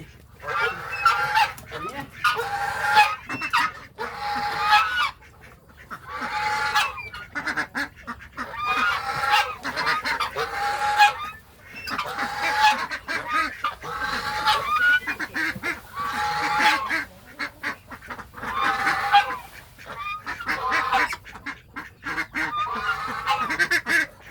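Farm geese kept among ducks in a rice field honking repeatedly in loud, overlapping bursts, close by, with the calls coming in steady waves throughout.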